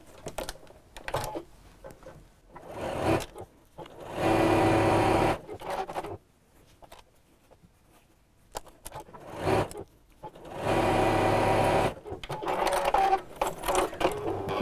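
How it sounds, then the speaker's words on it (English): Home sewing machine stitching a fabric lining to an outer piece straight across the top of a drawstring pouch, running in two steady bursts of a few seconds each, separated by quiet pauses with small handling clicks. "we'll sew straight across the top"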